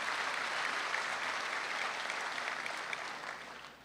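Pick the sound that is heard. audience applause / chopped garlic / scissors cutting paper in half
audience applause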